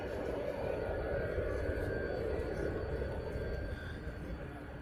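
A military transport aircraft, a C-17, approaches over Honolulu, a steady broadband roar that holds loud and even throughout with a faint high whine on top.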